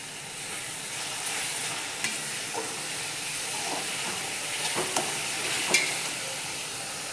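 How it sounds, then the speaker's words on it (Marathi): Beetroot halwa being stirred and fried in ghee in a home kitchen pan, a steady sizzling hiss with a few soft scraping knocks of the spoon, moderately close and continuous without talk. "आता आपण इथं ना थोडंसं तूप टाकून घेऊयात."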